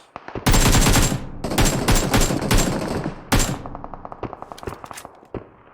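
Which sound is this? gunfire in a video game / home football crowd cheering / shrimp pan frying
gunfire in a video game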